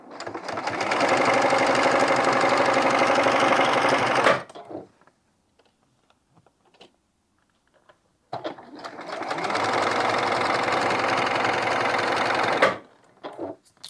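A sewing machine stitching a seam through layered fabric for a scrappy quilt border, running in two steady, loud bursts of about four seconds each with a quiet pause between them.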